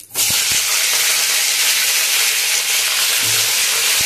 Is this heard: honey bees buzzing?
no